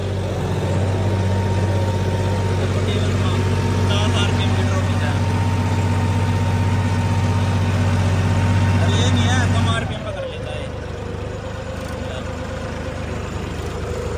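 Engine of a power-upgraded John Deere 5210 tractor drones loud and steady up close, then cuts back sharply near the ten-second mark to a quieter, lighter running note; talk is faintly audible.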